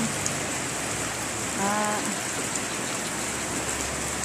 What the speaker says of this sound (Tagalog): Umuulan na siya